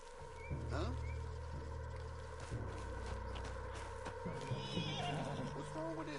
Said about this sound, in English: What's wrong with this horse?